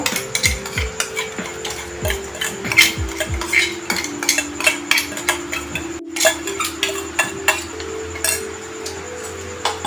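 Green paste going into a pan of hariyali chicken, with a spoon scraping and clinking against the metal in a steady, repeated stirring rhythm, close and clear, with a faint sizzle underneath and no voices.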